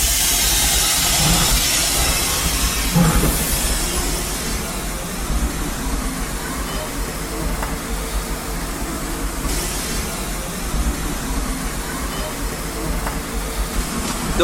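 Broad, steady hiss of steam venting from a steam locomotive at Disneyland Paris, loud and continuous throughout, with brief stronger bursts and a busy mechanical background around it.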